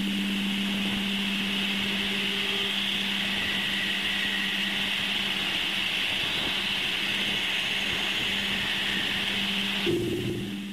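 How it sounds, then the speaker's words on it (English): Uranus's magnetospheric plasma waves come through as a steady, eerie droning hiss with sustained whining tones and a low rumbling undertone, continuous and unchanging until a brief shift near the end. "And this alien noise is Uranus's plasma waves."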